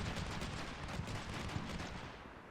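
Mark 19 grenade launcher rounds pound a building in Combat Mission Shock Force 2, a quiet, steady stream of rapid distant thumps and cracks rattling on without pause.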